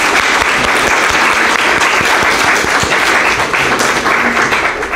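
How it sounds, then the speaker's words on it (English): Loud, sustained applause from a large crowd at a Canine Companions assistance-dog graduation ceremony, dense clapping filling the whole stretch without pause. "Let's give a round of applause for our graduates"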